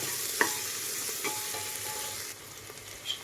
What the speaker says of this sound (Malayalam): അതും ഒന്ന് പച്ചമണം മാറുന്ന വരെ ഒന്ന് വഴറ്റിയെടുക്കണം